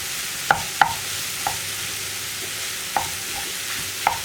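Tender jackfruit thoran being stirred in a pan after turmeric powder goes in, with a steady soft sizzle and a few sharp spoon scrapes and taps spaced through it, close and alone without talk.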